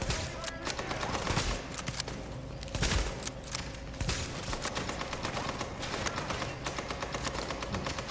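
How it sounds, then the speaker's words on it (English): Bolt-action rifle shots fire in The Division video game, sharp reports spaced out between the manual reloads, with game sounds and someone talking over them. "And I like this rifle. I like the manual reload"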